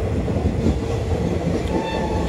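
The Sealdah–Lalgola passenger train running on rails, heard from on board as a loud, continuous rumble with a steady rail roar throughout.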